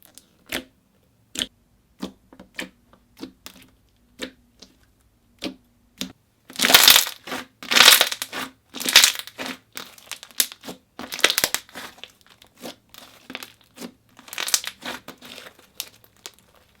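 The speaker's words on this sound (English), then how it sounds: "I couldn't stop playing with this. The slime was so thick, even when inflated." Thick grey slime packed with foam beads being squished and pressed by hand, producing sharp crackling crunches and pops that start as sparse single clicks and then build into dense bursts, close and without talking.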